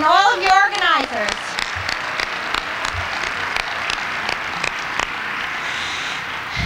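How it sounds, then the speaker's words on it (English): A crowd at an anti-fracking rally applauds its grassroots organizers, a steady wash of clapping with some sharp nearby claps; a voice is heard briefly at the start before the applause carries on alone. "So give yourselves a round of applause."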